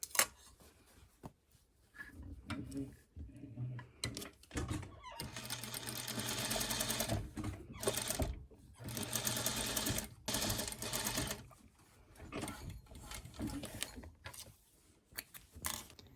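Sewing machine stitching bias binding onto a garment, running in several bursts of steady mechanical whirring separated by brief pauses, close and clear with no talk.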